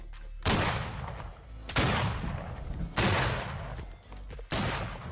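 Musket ripple fire volleys in the Civil War game Battle Cry of Freedom, four loud rolling bursts of overlapping gunshots, each trailing off before the next.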